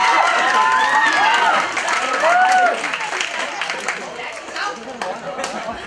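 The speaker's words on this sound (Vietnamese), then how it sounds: "chúng ta hãy dành một tràng pháo tay cho những tiết mục đã đoạt giải khuyến khích của liên hoan văn nghệ ngày hôm nay" An audience at a student arts festival final bursts into sustained applause and cheering for the encouragement-prize winners, a dense wash of clapping that fades slightly toward the end, with shouts and chatter mixed in.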